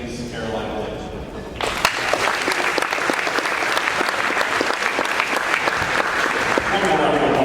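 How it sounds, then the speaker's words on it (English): Audience applause at a high school athletic signing ceremony for volleyball players at Olathe South. Quiet voices murmur at first, then a loud, dense burst of clapping swells and holds steady to the end. "One more round of applause for our volleyball."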